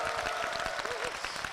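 Church congregation applauding and cheering, a dense continuous roar of clapping with raised voices mixed in, loud and steady throughout the brief moment.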